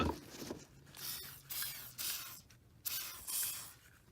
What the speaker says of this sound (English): I spray a little WD-40 on